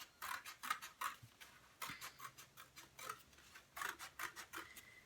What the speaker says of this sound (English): I'm going to use my scissors and cut on my paper plate that's already dry.